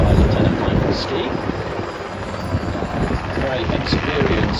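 A Seahawk helicopter flies a display at the Avalon Airshow, its loud rotor chop and engine roar steady and close, with wind buffeting the microphone throughout.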